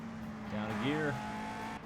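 A race car engine in the Indianapolis 500 Evolution racing game, a 1965 car at Riverside, drops through a downshift, the pitch sweeping briefly upward before settling into a steady drone, with a commentator talking over it.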